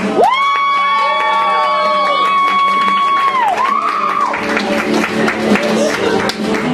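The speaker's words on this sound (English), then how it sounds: "clap loudly and enthusiastically for the last poet of the night, Carl" Crowd at a poetry slam clapping and cheering for the night's last poet, loud and close, with a long sustained whistle-like tone and whoops over steady clapping.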